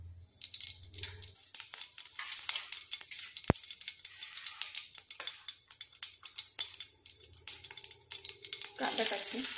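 Half a spoon of mustard seeds crackle in hot oil for a brinjal bharit, giving a dense, steady sizzle with frequent sharp pops and one loud crack partway through, close and continuous.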